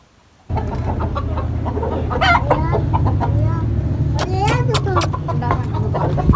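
Chickens cluck and squawk nearby over a steady low hum, with a burst of sharper, louder calls near the end; a person talks at times alongside them.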